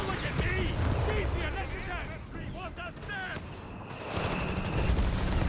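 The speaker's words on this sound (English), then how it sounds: "there's a bit of skirmishing of foot guards versus the Panzer Grenadiers. Thompsons versus Sturmgewehre" Thompson submachine guns trade fire with Sturmgewehr rifles as foot guards skirmish Panzer Grenadiers in Company of Heroes 3, a busy stream of distant gunfire and battle noise running under steady commentary.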